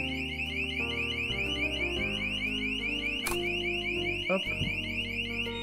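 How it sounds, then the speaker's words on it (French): A motion-detector tear gas alarm gives a loud, steady electronic siren tone that holds throughout, with a brief click and a short spoken word partway through. "C'est la tonalité, du coup, qui fait office de sirène."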